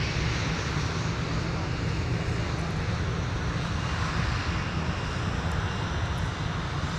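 A Delta Airbus A321 taxies on Whiskey at Minneapolis–Saint Paul airport, its engines giving a steady, even roar with a low drone, continuous and moderately loud with no pauses.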